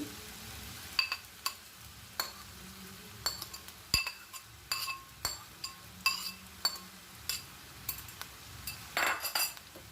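Vegetables added to a pan and stirred for Chinese fried rice, with sharp intermittent clinks of a metal spatula against the pan over a soft background sizzle, close and unaccompanied by speech.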